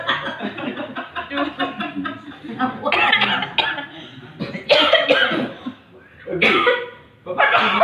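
Several coughs burst out between bouts of people talking and chuckling, close and fairly loud.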